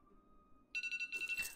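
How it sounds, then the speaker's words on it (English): A mobile phone goes off against a quiet room, first a soft tone, then a rapid run of bright pulsing beeps that swell into a louder ringing burst. "My phone is beeping."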